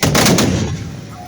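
Tbourida horsemen fire a volley of gunpowder muskets at a Moroccan equestrian display, one loud, close blast rolling into a booming tail that fades over about a second.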